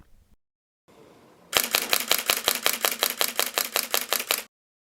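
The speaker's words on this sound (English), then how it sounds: "it can shoot 6 frames per second. Let's check that out" A Nikon D7000 shutter fires a burst of about sixteen crisp, evenly spaced clicks at six frames per second, loud and close, after a faint handling rustle and followed by silence.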